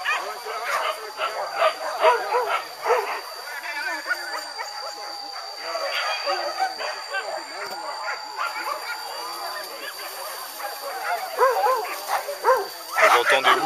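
Hunting dogs bark, yip and whimper through the forest during a pig hunt in Sumatra, the bursts coming irregularly at a moderate distance while people talk nearby.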